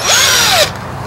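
A handheld power drill, fitted with a 3/8 inch bit, whirs loudly for about half a second, its pitch rising then falling as the trigger is squeezed and released, then cuts off abruptly.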